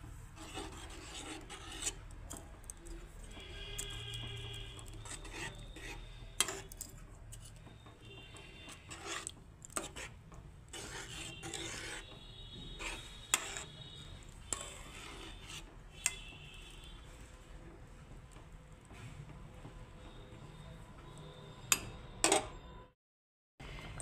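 A spoon scrapes and rasps slowly against the bottom of a pot as milk is stirred into vermicelli pudding, with soft repeated rubbing strokes and occasional light clinks, close and fairly quiet.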